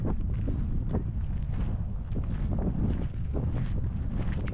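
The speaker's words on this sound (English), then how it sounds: "Very windy." Strong wind on Easter Island buffeting the microphone in continuous low roaring gusts, loud and close, with faint knocks underneath.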